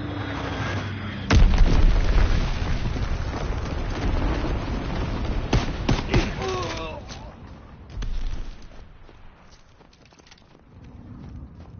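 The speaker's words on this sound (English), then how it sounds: "Enemy bomb incoming. Get to cover." Enemy bomb explosions rumble in a Call of Duty WW2 multiplayer hardpoint match, a heavy boom landing early and further bursts and crackling blasts following over a dense battlefield bed, with a faint voice partway through.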